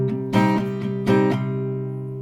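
Guitar strumming steady downstrokes on the chords of a song, with two brighter accented strums standing out over a ringing, sustained chord, close and alone.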